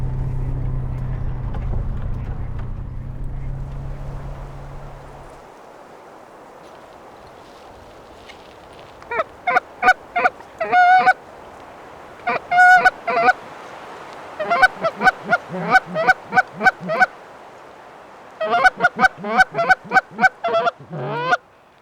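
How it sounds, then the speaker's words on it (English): Honking calls of ducks come in repeated bursts at a distance, scattered clusters of honks separated by quiet pauses, after a low rumble fades out. "See all them ducks come down there"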